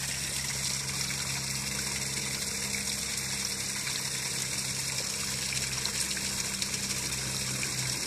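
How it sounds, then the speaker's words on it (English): A small fountain trickles into a koi pond, a quiet continuous splashing wash over a low steady hum from pond equipment, with no voices. "A little fountain there."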